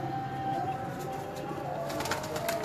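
A pigeon in a Gujrat loft giving soft repeated coos over a steady background hum, fairly faint, with a few light rustles near the end.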